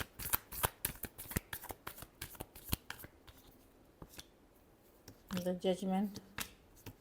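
Tarot cards are shuffled in quick, crisp riffling bursts for about three seconds, then softer scattered flicks, before a voice speaks briefly near the end.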